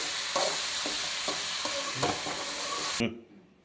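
Sliced okra sizzles in a pan for chutney while a utensil stirs it in rhythmic scraping strokes, close and busy, before the sound cuts off abruptly near the end.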